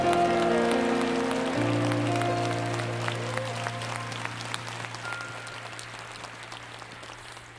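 A church congregation at a Friday worship service claps steadily as the music fades beneath it, the applause thinning and tapering off toward the end.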